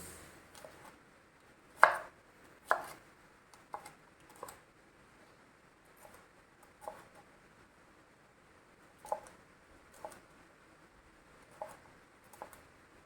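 Knife chopping red capsicum into diamond-shaped pieces on a cutting board, a dozen or so crisp, irregular taps spaced a second or so apart, close and clear over a quiet room.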